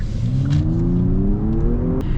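A 2023 Genesis G90 luxury sedan accelerating at full throttle, its engine note climbing smoothly and steadily in pitch for about two seconds, heard from inside the cabin, with no one talking.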